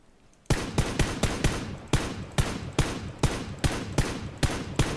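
Rapid gunfire in the video game PUBG (PlayerUnknown's Battlegrounds), a loud, close burst of about a dozen evenly spaced shots after a brief quiet start, with no talking.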